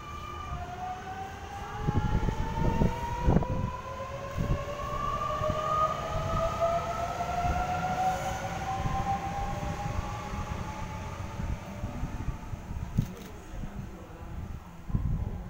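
A Sydney Series 1 Waratah train pulls into the platform on a City Circle service via Sydenham, its rising and falling electric motor whine sweeping over a steady rumble with a few bangs and clunks.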